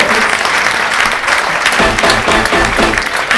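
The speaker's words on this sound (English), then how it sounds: "Big round of applause for the radiologist." A comedy show audience breaks into loud, dense applause for a radiologist, a continuous roar of clapping hands from a large crowd.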